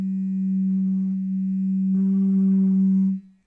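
A steady Quip electric toothbrush buzz held close, continuous for about three seconds with a brief change in tone midway, then cutting off.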